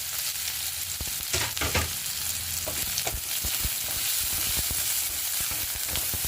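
Ginger, garlic and onion fry in a pan, a continuous close sizzle with a broad hiss, broken by scattered clicks and taps of stirring against the pan.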